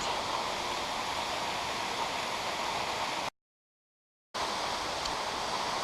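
Baskins Creek Falls waterfall, a steady broadband rush of falling water, fairly loud and continuous, cut by a brief stretch of total silence before resuming.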